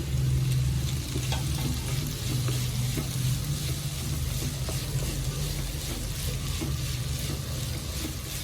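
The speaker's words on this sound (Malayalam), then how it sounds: "ഉരുളക്കിഴങ്ങ് ചെറുതായിട്ട് അരിഞ്ഞത് ഇട്ട് കൊടുക്കാം" Finely chopped potatoes for vegetable samosa filling sizzle loudly and steadily in a pan, a dense close frying hiss that never lets up, with faint stirring underneath.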